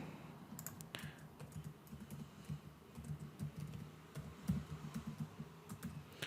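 Soft, close keystrokes on a computer keyboard as a password is typed, an irregular patter of quiet clicks that runs for about six seconds with no voices.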